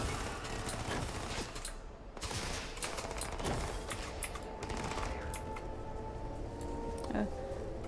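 A cutter tool fires in the Starfield video game, a dense string of sharp, rapid cracks and bursts that rattle on for several seconds at a fairly even level.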